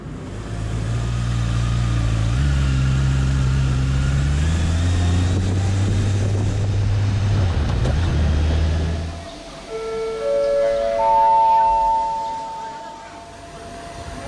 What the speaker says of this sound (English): It makes the bike sound rather interesting, even though it has a 360-degree crank.